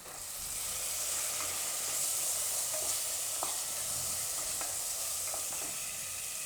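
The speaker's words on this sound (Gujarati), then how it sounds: "હવે એમાં આપણે દાળ નાખી દઈશું." Chana dal tipped into a hot sizzling pan for a potato and chana dal curry, a continuous hiss of frying with a few small clicks and stirring taps, close and fairly quiet, no voices.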